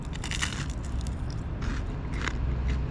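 Dry, crunchy fried chicken skin from an Australian KFC being chewed close up, a steady stream of crisp crackling bites with repeated crunch bursts throughout, no talking.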